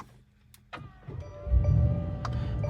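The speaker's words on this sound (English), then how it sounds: "let's hear this giant V8 roar to life" A 2021 Mercedes G-Wagon's big V8 engine starting: a few soft clicks and a brief crank, then the engine catches into a loud, steady low rumble close by, with no talk.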